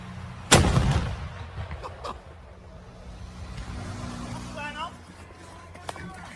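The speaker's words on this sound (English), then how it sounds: "there was a man in that barrel and he did get shot out of the cannon" A single loud blast from a circus-style human cannonball firing a man out of a barrel, sharp onset that decays over a second, followed by murmuring crowd and people talking nearby.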